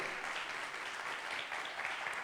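Applause from a church congregation during a Spanish-language sermon, a steady wash of many hands clapping at moderate distance, sustained evenly throughout with no voices over it.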